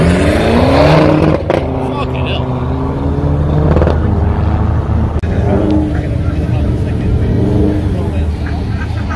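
A BMW and a Subaru racing at Crail Raceway during a drag racing event, heard as loud, sustained engine roar with rising and falling revs and gear changes, close by and continuous.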